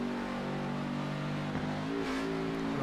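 A sim race car in a racing video game rolls off the throttle while coasting, its engine drone held at a steady, moderately quiet level with a brief pitch shift as the clutch is pressed.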